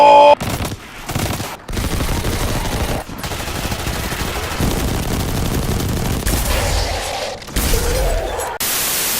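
Rapid gunfire from new weapons in the shooter game Destiny 2 Forsaken, with dense bursts of automatic fire and shots broken by brief pauses, loud and close, ending in a sharp blast.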